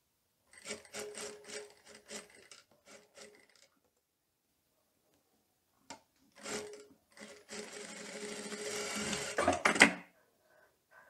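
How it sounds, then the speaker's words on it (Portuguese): Sewing machine stitching the sleeve of a teddy coat, several short runs of close needle chatter, a pause, then a long, faster stitching burst that rises before stopping, with no talking. "vou virar o outro lado da cava e também vou costurar a manga."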